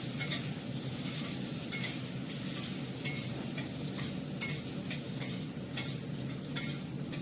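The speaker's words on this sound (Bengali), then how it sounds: "আলুটা একটু ভালো করে ভেজে নিয়ে এর মধ্যে পালং শাকটা দিয়ে দেবো" Potatoes fry in oil in a pan with a steady crackling sizzle, punctuated by repeated light scrapes of a spatula stirring every second or so; close up, no talking.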